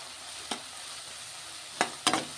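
Onions frying with turmeric and salt in a pan, a soft steady sizzle broken by a few quick spatula scrapes, one early and a cluster near the end, quiet and close with no talking.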